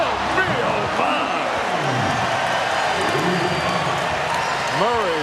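A basketball arena crowd at a 1997 Bulls versus Clippers NBA game roars steadily in a dense wash of cheering and applause, with commentators talking over it throughout.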